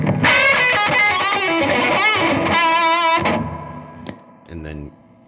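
Electric guitar played through the gain channel of a Peavey Triumph 60 amp, a bright, driven lead tone with sustained notes and chords ringing out loudly before fading to a few softer picked notes.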